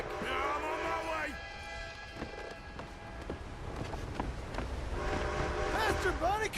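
A train approaching in Red Dead Redemption 2, with a rumbling run and horn-like tones rising toward the end, mixed under excited shouting voices and game ambience.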